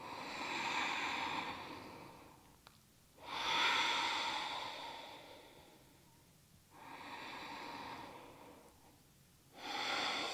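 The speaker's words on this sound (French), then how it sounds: "mettre en place une respiration sonore qui va vous accompagner pendant toute la pratique" Slow, audible ujjayi-style yoga breathing, with long rushing inhales and exhales alternating in a steady rhythm, close and soft, with no speech.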